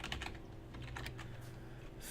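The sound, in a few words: typing a search on a computer keyboard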